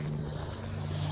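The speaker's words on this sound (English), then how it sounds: "I hear an airplane." A propeller airplane passes high over a rural hayfield, heard as a faint, steady low drone that holds evenly through the short stretch with no voices.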